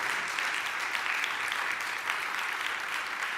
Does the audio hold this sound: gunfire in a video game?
no